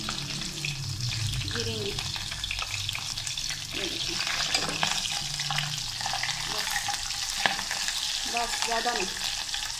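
Whole spices frying in hot oil in a home kitchen for black masoor lentil dal, a steady loud sizzle and crackle running throughout with stirring, a voice speaking briefly over it.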